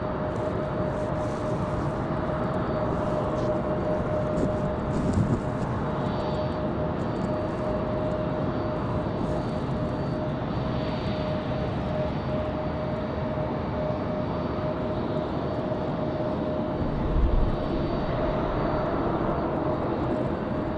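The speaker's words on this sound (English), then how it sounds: "We've got that A320 on the move and a couple of E175s out to the end of the runway." Airbus A320 airliner taxiing at Raleigh-Durham International Airport on a windy day, a steady loud jet engine roar with a constant whine, unchanging throughout with no voices.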